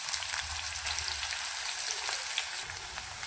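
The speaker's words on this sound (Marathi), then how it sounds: "चला तर मग बारीक केलेला कांदा टाकून घेऊया। कांदा मस्त फ्राय करून घ्यायचा।" Chopped onion fries in hot oil with cumin and mustard seeds, giving a dense, steady, close sizzle with faint crackles and no voices.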